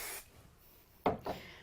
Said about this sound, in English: So I'm going to use that with some spray glue.